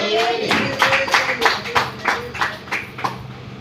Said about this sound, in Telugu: చప్పట్లు కొట్టి దేవుడికి స్తోత్రం